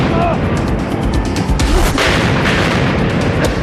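A loud, dense burst of explosive booms and crackling blasts, like firecrackers or a spinning-top firework, fills the whole stretch with sustained noise and scattered sharp pops.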